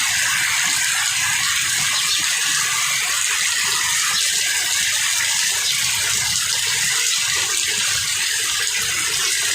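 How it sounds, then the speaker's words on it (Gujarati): Heavy rain pours on a village in Dhari taluka, Amreli district, during summer. It makes a dense, steady, loud rushing hiss that continues unbroken for the whole stretch, with no voices. "ધારી તાલુકાના અમરેલી જિલ્લા રાસવાળી ગામમાં ધોધમાર વરસાદ"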